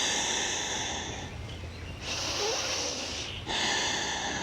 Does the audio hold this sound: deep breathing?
yes